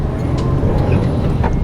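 A truck with its kick axle raised rumbles loudly up close, with a low engine drone and a brief hiss of air brakes.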